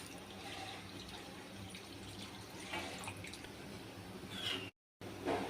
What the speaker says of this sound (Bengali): এবার জলটা পরিমাণ মতন জলটা দিয়ে দেবো।